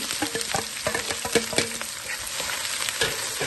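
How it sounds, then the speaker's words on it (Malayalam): Mustard seeds splutter in hot oil in a pan for a mushroom masala, a close crackling sizzle with rapid irregular pops and ticks over a steady hiss. "ഇവിടെ പാത്രത്തിൽ എണ്ണ നന്നായി ചൂടായി വന്നിട്ടുണ്ട്. ഇനിയും അതിലേക്ക് കടുകിട്ട് പൊട്ടിക്കാം."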